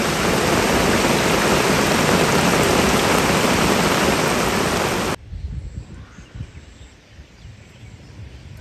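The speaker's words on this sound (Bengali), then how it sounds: "প্রচুর বৃষ্টি" Heavy rain pours in a loud, dense hiss for about five seconds, then cuts off abruptly, leaving quieter, softer rain and low rumbling, during a fishing outing.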